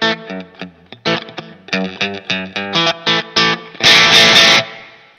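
Electric guitar played through a Line 6 Pod HD500 on its Supro amp model, drive at 26 and master fully up: a string of crisp, overdriven single notes and short chords, ending in a loud, sustained strummed chord that rings out.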